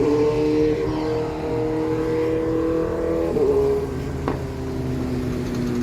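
A Mercedes C300 drives and accelerates after a used transmission control module was installed and reset, its engine droning steadily up close and climbing in pitch with a clear gear shift partway through.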